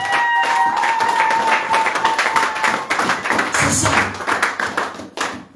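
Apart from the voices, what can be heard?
church congregation applauding Jesus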